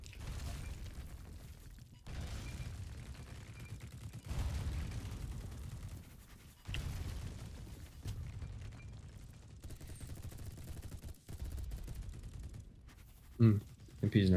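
Gunfire in the shooter game Battlebit Remastered, with repeated bursts of weapon fire, including an MP-style gun, spaced through the stretch and a few sharp louder shots near the end, under a steady bed of game noise.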